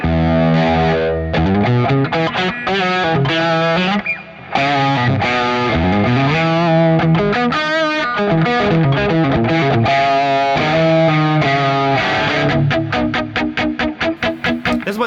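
Heavily distorted electric guitar in standard tuning, played through a distortion pedal, plays chords and riffs continuously, loud and saturated, with a brief drop in the middle and choppy strummed chords near the end.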